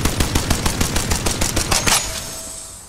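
Rapid automatic weapon fire from an Apex Legends gun rattles off in a fast, loud, evenly spaced burst of about a dozen shots, then cuts off and leaves a fading tail.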